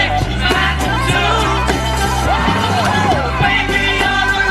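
A song plays loudly over radio, with a dense full-band mix of vocals, bass and percussion running continuously without talk.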